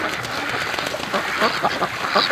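Free-range ducks quack outdoors in falling snow on a freezing day, a cluster of nasal calls fairly near amid wind noise, growing busier toward the end.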